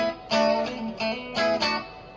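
Several plucked electric guitar chords ring out one after another through a Super Reverb amp model, with a warm, clean tone and a spacious reverb tail.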